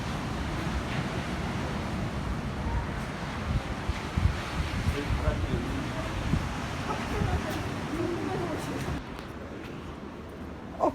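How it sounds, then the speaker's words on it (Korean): Strong wind blowing outdoors near the coast, a loud, continuous roar buffeting the microphone with gusty swells, and faint voices underneath. "우와, 바람 뭐야?"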